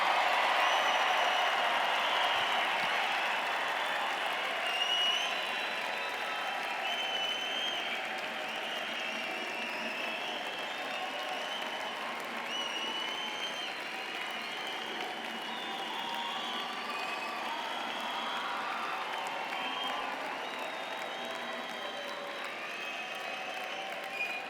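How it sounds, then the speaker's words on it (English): Large audience applauding new graduates at a university engineering commencement ceremony, a sustained, even roar of clapping in a big hall that slowly eases off over about twenty-five seconds. "let us give the new graduates a big round of applause."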